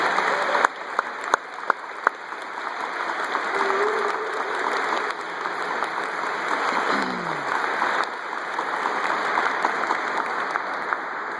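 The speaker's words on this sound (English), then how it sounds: "let's give her a round of applause." Sustained audience applause at a Disability Awareness Day award ceremony, dense crowd clapping filling the room for several seconds, loud and steady with a few sharper claps and brief voices underneath.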